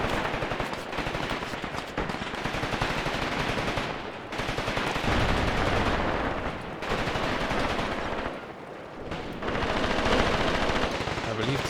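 Enemy machine guns in the war game Graviteam Tactics rattle in long, dense bursts broken by brief pauses, loud and continuous, with overlapping gunfire filling the scene.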